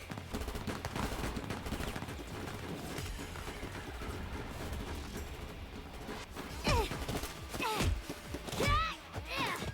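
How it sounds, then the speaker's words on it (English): Gunshots in AI: The Somnium Files, a continuous spatter of shots and impacts during a dark firefight with louder bursts near the end, heard alongside faint voices. "Everyone continuing to miss shots."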